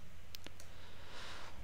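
A few quick, soft clicks of computer keyboard keys, typed close by in a quiet room with no one speaking.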